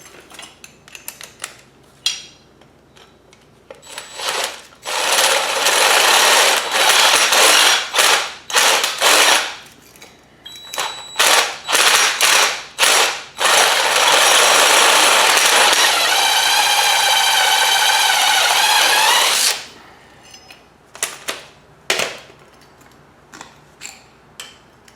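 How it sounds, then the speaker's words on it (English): A power drill with a half-inch bit bores out a rivet on a 1995 Ford F-350, loud whirring bursts of grinding in stops and starts, with clicking and ratcheting between runs and no talk. "we're going to use a 1/2 inch bit, and we're going to clean this, the rest of this rivet off the top here"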